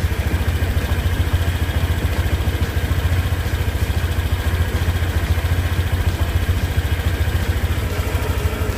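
A Honda Click 125i scooter engine idles steadily after a coolant change, giving a close, loud and even mechanical hum with a light rhythmic clatter, with no voices.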